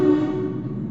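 Loud sustained truck air horn blaring steadily for about half a second, then its tone fading into a dense, noisy rumble in a lively street setting near a bar.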